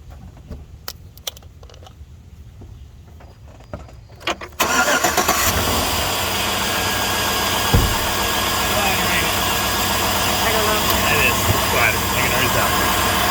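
A 5.3-litre Chevy Tahoe engine cranks and fires after a few seconds of quiet clicks and key jangles, then settles into a loud, steady idle, with a person talking near the start.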